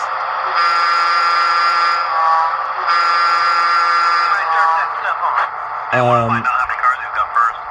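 Two blasts of a multi-tone electronic horn from an SD9 model train locomotive, close and loud over a steady mechanical hum, followed by a brief rising bell-like chime.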